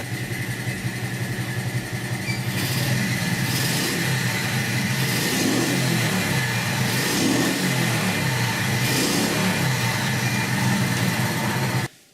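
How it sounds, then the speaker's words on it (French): A 50cc four-stroke manual-gearbox motorcycle runs nearby, its small engine buzzing steadily with several rhythmic revs rising and falling before the sound cuts off at the end. "vous faites tourner la moto"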